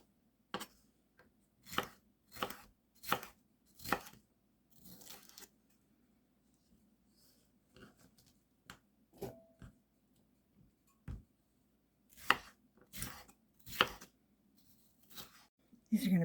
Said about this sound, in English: Just going to cut these in strips.